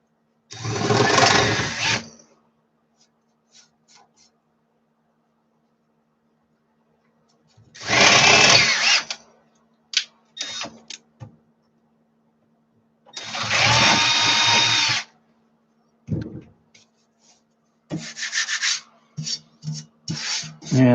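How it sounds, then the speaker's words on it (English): A drill bores a hole to size in metal in several bursts of a few seconds each, with quiet gaps between, and short scrapes and clicks of handling near the end. "I can go and drill that one to size."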